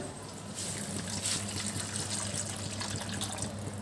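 Tamarind water poured into a pan of bitter gourd gravy gives a steady, continuous watery pour and splash that holds at an even level throughout.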